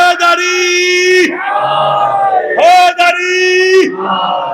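A crowd at a religious gathering shouts the slogan "Haidari" in loud, sustained unison calls, two long swelling bursts with a brief pause between them.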